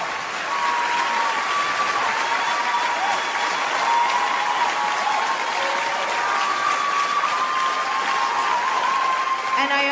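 An audience applauds and cheers steadily for about ten seconds, a dense continuous wash of clapping with voices shouting over it.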